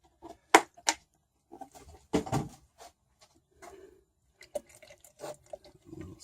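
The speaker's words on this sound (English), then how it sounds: "I'm going to put a little paint thinner in it" Paint thinner poured into a paint can while finishing companionway slides, heard as a few brief wet splashes and trickles in short separated bursts, close by, with small knocks between them.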